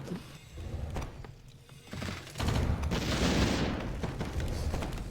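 Mortar teams sieging a castle in Warcraft III make repeated booming blasts and crackling impacts, growing into a dense, loud barrage of explosions with no voices.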